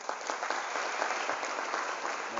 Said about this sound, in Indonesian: berikan tepuk tangan kita untuk Nusantara